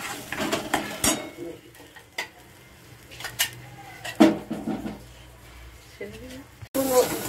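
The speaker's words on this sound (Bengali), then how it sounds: "ঘিটা গরম হয়ে গেছে, পেস্টটা ঢেলে দিলাম। দিয়ে নেড়ে চেড়ে নেব।" Carrot paste is stirred in hot ghee in a pan, with a spoon clinking and scraping against the metal several times over a faint sizzle, while someone talks throughout.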